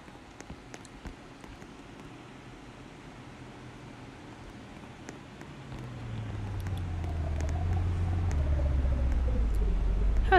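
Car driving in the Roblox Bloxburg game, a low engine rumble that swells from quiet to a steady, louder drone over the second half.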